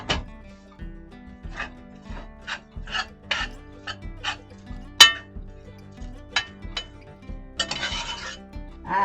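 Ground beef for spicy Louisiana sloppy joes cooks in a pot while a utensil stirs and scrapes it, giving scattered clinks and knocks against the metal at an uneven pace.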